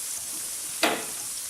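Chopped onion drops into hot oil for masala rice, bursting into a sudden loud sizzle that settles into a steady hiss.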